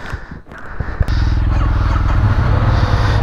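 Royal Enfield Interceptor motorcycles rev up after a brief pause, settling into a loud, steady, throbbing engine rumble from nearby riders on the road.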